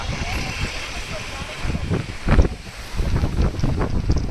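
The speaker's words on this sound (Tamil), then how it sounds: "காத்துன்னு எப்படி அடிக்குது" Wind blows hard across the microphone on the Pamban highway bridge in uneven gusts, rumbling and thumping, with a louder buffet midway.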